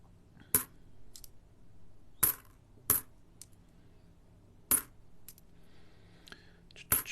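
Australian 5c coins being handled and dropped, giving several sharp metallic clinks and clatters scattered across a quiet background, with longer pauses between them.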